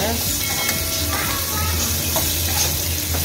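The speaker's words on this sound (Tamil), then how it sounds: "பச்சை மிளகாயெல்லாம் நல்லா வதங்கிடுச்சு." Green chillies sizzle steadily while being sautéed in a pan with tamarind and a little coconut for a mint thuvaiyal, a continuous loud frying hiss with occasional stirring, no voice over it.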